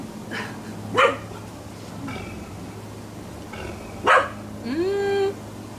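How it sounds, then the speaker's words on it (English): Dogs bark nearby with sharp, separate single barks spaced a few seconds apart, ending in a rising whine, all over a steady low hum outdoors by a hot tub. "I don't know what they're barking at."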